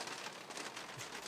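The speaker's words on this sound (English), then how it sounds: "we'll go outside in the rain and see how it goes, because it's absolutely coming down" Heavy rain pours down outdoors in a garden, a steady, even hiss of dense drops with no breaks, faint and distant.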